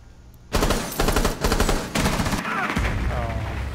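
Loud rapid automatic gunfire in Rainbow Six Siege, several dense bursts of shots in quick succession with brief gaps and a trailing crackle.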